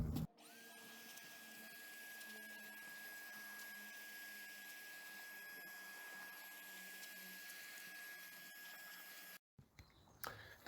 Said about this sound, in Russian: Вот такая насадочка с пылесоса тоненькая.